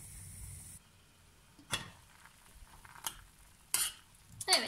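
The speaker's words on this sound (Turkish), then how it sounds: "Şöyle bir karıştırıyorum. Ve kapağını kapatıyorum." A spoon scrapes and clinks through a dried eggplant dish in a pot, a few scattered stirring knocks, then a sharp metallic clatter as the lid is set down, all fairly quiet with a faint background hiss.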